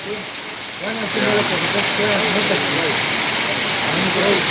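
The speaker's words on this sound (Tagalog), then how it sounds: "umuulan dito sa bansang Kuwait" Heavy rain falls in Kuwait as a steady, loud hiss that swells after the first second and holds, with someone talking over it.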